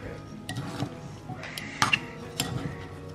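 Salad sauce being stirred in a bowl, with a utensil scraping and clinking against the sides in irregular taps and a few brighter chimes, close and fairly quiet.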